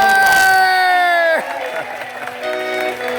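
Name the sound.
audience applause and cheering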